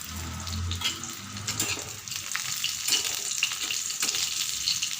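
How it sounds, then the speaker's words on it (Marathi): Green chilies and curry leaves fry in hot oil with a steady, close crackling sizzle, broken by a few sharper pops and brief stirring scrapes across the whole stretch. "हे बघा, अशी तळली मिरची आणि थोडेसे जिरे टाकूया."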